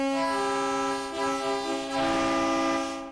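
A sustained, buzzy chord from the Vital synthesizer in 29-EDO tuning holds steadily for about three seconds, two dissonant tones a diminished fifth apart ringing together with no talking.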